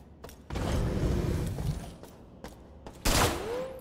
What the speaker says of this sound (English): Oh no, I shot a few Teflon rounds.